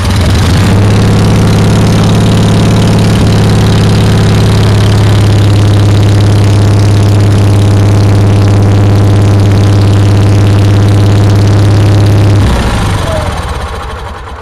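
A generator engine with an electric fuel pump and push-button start fires up quickly, running loud and steady at a constant idle for about twelve seconds before it cuts off sharply.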